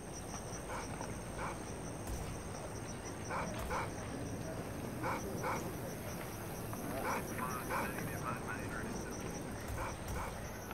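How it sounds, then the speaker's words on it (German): A dog barks and whimpers in short repeated bursts in Hitman: Blood Money, set against steady game ambience with faint background noise throughout. "Hier ist wieder der Hund."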